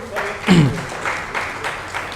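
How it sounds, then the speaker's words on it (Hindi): Brief clapping from an audience at a poetry open-mic awards event, a soft continuous patter of hands with a voice briefly cutting in near the start. "तो ताली ज़रूर बजाइए इनके लिए"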